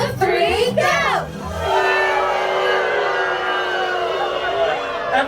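Train passengers on a Southern California holiday train ride imitate a steam train stopping together, a loud crowd of voices swelling into a long hissing, chuffing rush inside the car.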